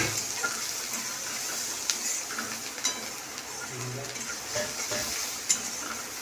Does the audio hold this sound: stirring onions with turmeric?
yes